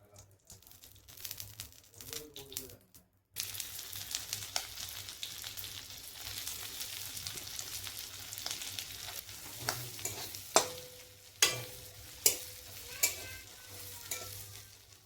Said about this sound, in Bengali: পেঁয়াজটা ভাজা করার জন্য এখন আমি তেল দিয়ে দেব।